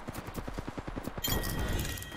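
Rapid burst of Halo video game gunfire: a rhythmic train of sharp shots for about a second, then a denser, sustained roar of weapon noise and effects without any voices.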